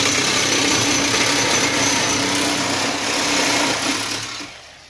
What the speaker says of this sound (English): This is how thieves cut your converter.